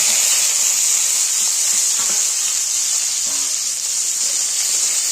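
Lentils with vegetables tipped into hot spice tempering for a village-style pumpkin greens dish, a loud continuous sizzle with stirring scrapes and faint knocks, no voices.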